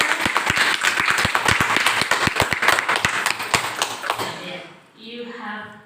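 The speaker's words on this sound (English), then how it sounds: "So, give a good applause to Madam" Audience applause for an assistant principal at a school session on India's NEP 2020, a loud burst of sharp hand claps from a nearby crowd that stops after about four seconds, followed by a voice starting to speak.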